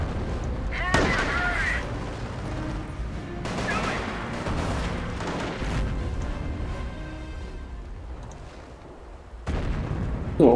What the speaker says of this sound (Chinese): 谁叫炮击？